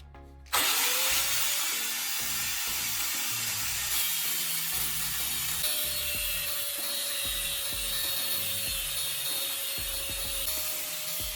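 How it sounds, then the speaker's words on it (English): Handheld grinder fitted with a cutting wheel biting into the metal of a spark plug held in a vise, a loud continuous harsh grinding whine with a steady tone throughout after a sudden start. "Install a cutting wheel on the handheld grinder and check that it runs straight."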